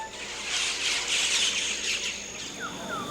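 Birds squawk and chirp in a dense chorus in a Papua New Guinea rainforest, with a couple of short rising whistled calls near the end over a steady background buzz of insects.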